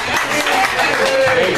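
A round of applause for Ms. McCray at an evening welcome event at a Harlem cultural center: dense, steady clapping from a crowd, fairly loud and continuous, with cheering voices mixed in.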